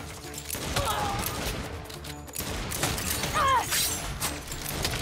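Gunfire in the Saints Row video game, dense bursts of shots and crashing impacts running throughout at steady loudness, with a brief squeal-like effect in the mix.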